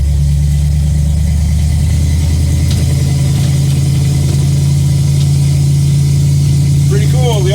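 An old 1955 car drives along an oiled road, its engine a steady low rumble close by with some mechanical rattle and a faint squeak near the end.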